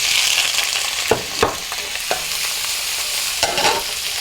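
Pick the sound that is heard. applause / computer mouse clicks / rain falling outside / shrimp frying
shrimp frying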